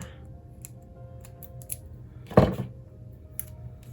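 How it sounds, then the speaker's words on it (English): A single short burst of scissors cutting paper, a crisp snip over a quiet room hum, with faint ticks before and after. "where are my scissors? Let's cut it."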